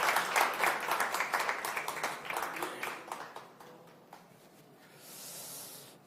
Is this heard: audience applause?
yes